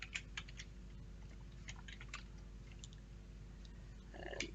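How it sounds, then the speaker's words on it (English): Typing on a computer keyboard while making text artwork in Open Office: soft, uneven key clicks tapping in quick irregular bursts, faint and close, with no talk. "Let's hit the T and come back in and type"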